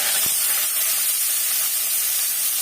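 Chopped onions hit hot oil in a pan with curry leaves and fennel seeds, giving a steady, loud hissing sizzle that holds evenly throughout.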